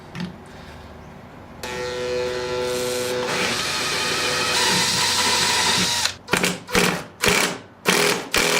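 A power drill with a 5/32 bit whirs steadily at rising speed, drilling a 2014 Honda CRF450R for spark arrestor installation, then stops and starts in several short bursts.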